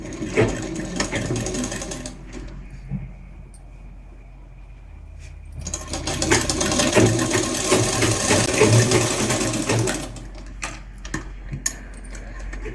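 A straight seam is sewn on a churidar by a sewing machine in two sustained whirring runs separated by a quieter pause, with light clicks and fabric handling between and after.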